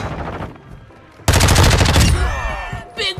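Video game gunfire comes as a rapid automatic burst that starts abruptly and stays loud for under a second, then fades into a ringing tail, with softer game sounds before it.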